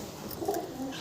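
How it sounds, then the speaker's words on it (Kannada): Pet pigeons kept and bred at a home coo softly nearby, a short low burbling call rising and falling, heard alone without talk. "ಸಿನಿಮಾ ಪಾರಿವಾಳಗಳು ನೋಡು."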